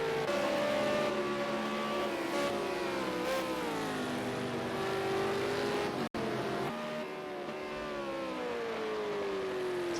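A V8 Supercar engine roars in a racing video game at Watkins Glen, continuous loud drone with rising and falling revs through gear changes, a brief cut midway, no talk.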